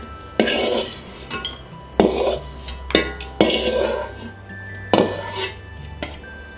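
Ghee-fried raisins scooped from a pan onto a plate, with sharp metallic clinks and scrapes of a spoon against cookware in irregular bursts, close and fairly loud.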